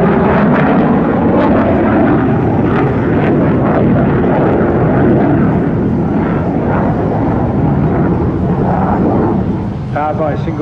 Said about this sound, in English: Powered by a single Volvo RM8 turbofan, it's essentially a licensed built variant of the Pratt & Whitney JT8D engine.